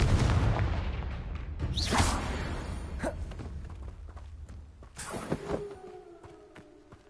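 A booming fire-spell blast from the video game Hogwarts Legacy opens loudly and rumbles away, followed by scattered cracks and crumbling debris, then a second softer burst and fading tonal shimmer.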